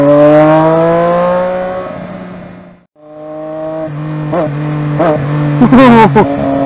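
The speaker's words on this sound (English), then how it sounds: "The throttle response of this inline 3-cylinder is just absolutely freaking mental." Triumph Daytona 675 inline three-cylinder motorcycle engine revved in city traffic: a sustained rising engine note drops away to near silence, then returns with several sharp, quick throttle blips stacking on each other, close and loud.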